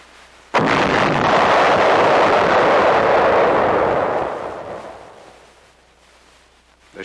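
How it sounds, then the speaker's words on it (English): A Japanese spigot mortar shell, found in a field on Okinawa, is detonated by a bomb disposal unit. It makes one sudden, loud blast that roars on for several seconds, then fades slowly into quiet. "Troops of the 27th Division Bomb Disposal Unit detonate and destroy a spigot mortar shell found in a field on Okinawa Island."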